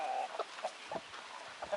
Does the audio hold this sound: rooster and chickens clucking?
yes